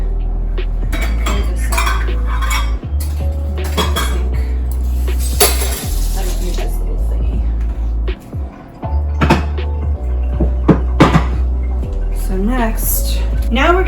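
Mixing bowls from a home chocolate chip cookie bake are set down into a kitchen sink, with clattering dish and cutlery knocks spread through the clip under ongoing conversation in a kitchen.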